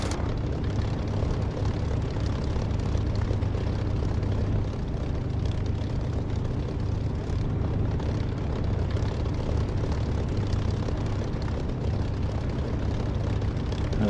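Aircraft engine in DCS flight sim drones steadily before takeoff on a centre runway, a constant low propeller-like roar with no breaks, alone and unchanging for the whole stretch.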